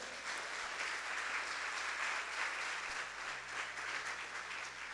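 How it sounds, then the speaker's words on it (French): Warm applause from a school audience at a televised inter-college quiz contest, steady broadband clapping sustained for about five seconds at moderate distance, with no voices. "je réclame de chaleureux applaudissements pour ses partenaires"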